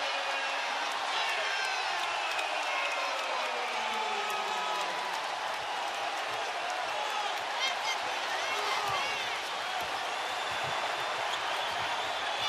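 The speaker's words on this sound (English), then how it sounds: "Jason Tatum has electrified the crowd" A packed arena crowd roars without letup at a Celtics vs Cavaliers Game 7 NBA playoff game after a Jayson Tatum dunk, loud dense cheering with whoops and whistles filling the space.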